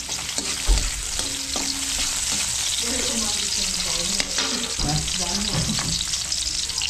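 Garlic and onion fry in a pan with a steady, close sizzle, broken by brief scraping stirs and a few faint tonal sounds in the background.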